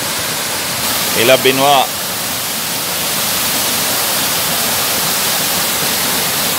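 Saut du Gendarme waterfall at Fond-Saint-Denis in northern Martinique, a steady, loud, hissing roar of falling water that fills the whole clip, with a brief spoken phrase near the start.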